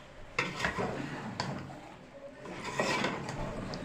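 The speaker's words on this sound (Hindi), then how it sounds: "ये मसाला भून के इसमें भुन रहा है" Masala spices roast in a pan for aloo baingan, with a soft frying hiss broken by scraping stirs and a few clattering knocks of a spoon against the pan, close by and without speech.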